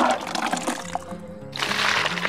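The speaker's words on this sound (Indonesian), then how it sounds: "langsung kita siram ke pokoknya seperti ini" Fermented liquid fertilizer is poured onto the base of chili pepper plants, a wet splashing pour that grows fuller and steadier in the last second.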